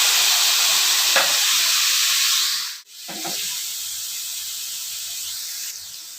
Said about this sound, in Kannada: ಈಗ ನೋಡಿ, 4 ಸಣ್ಣ ಪೊಟಾಟೊ ಕಟ್ ಮಾಡಿರುವಂಥದ್ದು ಹಾಕ್ತಾ ಇದ್ದೀನಿ